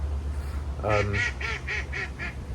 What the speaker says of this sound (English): even the ducks having a laugh at me